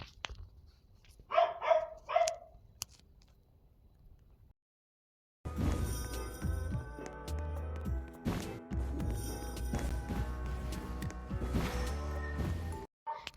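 A dog barks in a short burst of several yaps, fairly close and clear against a quiet background. After a brief silence, loud, busy game music takes over.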